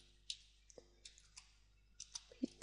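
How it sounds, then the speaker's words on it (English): Typing on a computer keyboard, a dozen or so sparse, quiet key clicks spread unevenly, close and alone with no talking. "if we go to Google and we type in a search term"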